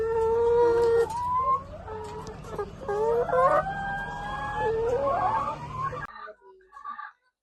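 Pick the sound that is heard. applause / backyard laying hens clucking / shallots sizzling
backyard laying hens clucking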